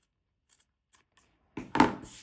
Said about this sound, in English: use a smaller pair of snips, and you're just going to snip the corners away there